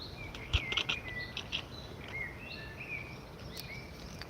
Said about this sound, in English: can you hear the birds singing there?